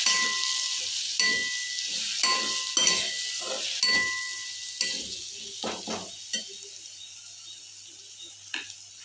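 A spoon stirs a paste of green chili, ginger and garlic in a pan, making a series of scraping strokes and clinks over a soft sizzle, close by, and the sound fades toward the end.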